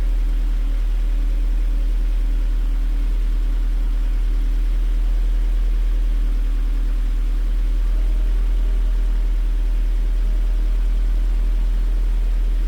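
A car engine idling steadily at working temperature after a coolant leak repair, a constant low hum with no revving, heard up close and alone while waiting for the radiator fan.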